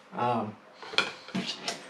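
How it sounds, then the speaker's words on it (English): Camping pots and pans, including cast iron cookware, being handled during a Jeep camping setup, with a few close metallic clanks and clatters after a short stretch of voice. "So next up is pots and pans."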